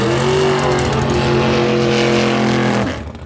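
A Camaro drag car at a no-prep drag racing event roars loudly down the strip in one sustained, steady engine note, then drops away sharply at the end as it recedes.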